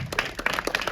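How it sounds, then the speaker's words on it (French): Cinema audience applauding at a film premiere in Paris, a burst of close, uneven clapping from several hands. "Est-ce que vous pouvez applaudir?"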